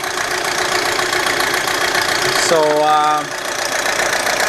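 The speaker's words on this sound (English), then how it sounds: "You can hear the engine is quite noisy" A cold 2007 Audi A4 engine with low oil pressure idles with a loud, rough, steady clatter, a brief tonal whine rising over it midway as a voice speaks a word.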